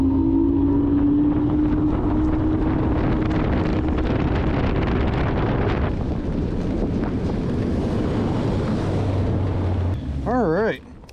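Fishing boat motoring through a storm during a weeknight bass tournament, a loud steady outboard drone buried under heavy wind buffeting the microphone, continuous throughout and easing only at the very end.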